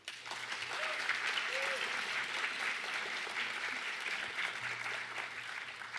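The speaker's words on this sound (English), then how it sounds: "Let's give our 10 competitors one last round of applause." An audience at a university 3-Minute Thesis competition applauds the competitors, a dense, steady wash of clapping heard from some distance, fairly quiet overall, with a faint voice beneath it.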